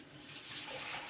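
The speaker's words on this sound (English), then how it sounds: "So we're just going to go and put some water in this." Water running from a tap into a pot for homemade beef vegetable soup, a faint, brief steady splashing and hiss in a home kitchen with no talking.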